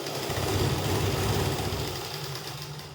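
A sewing machine runs steadily while stitching a kali plazo (panelled palazzo) from fabric, giving a continuous mechanical whir and rattle that eases off slightly toward the end, with no voices.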